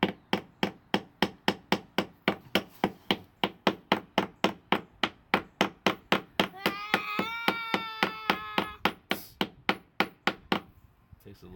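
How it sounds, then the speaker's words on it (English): A hammer drives nails into wood for a back shell in a beginner's woodworking project, with rapid, even, close-up strikes repeating throughout and a brief stretch where a voice is heard over the blows. "Hammer away."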